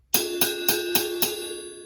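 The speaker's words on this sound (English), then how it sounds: "when you put tape on a cymbal, the only thing it does is it mutes the cymbal and makes the cymbal sound like this." A cymbal muted with tape is struck five times at an even, steady pace, each hit a close, bright ring that is quickly damped, the last one left to fade out.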